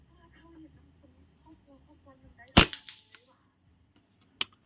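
A PCP air rifle fires one sharp, loud crack at an outdoor range, followed by a brief ringing tail and a second faint snap, with quiet background murmur before it.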